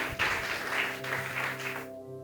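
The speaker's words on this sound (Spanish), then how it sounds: "Dale fuertes palmas a Dios." Church congregation clapping loudly and steadily together, a dense continuous wash of applause with sustained music or organ tones underneath, cutting off abruptly near the end.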